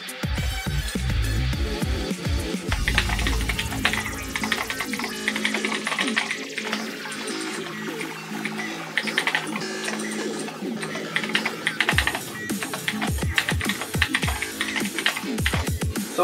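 Fast clicky typing on an ieGeek 87-key mechanical keyboard with blue switches, a dense close run of sharp key clacks that thins into scattered, more separated presses near the end.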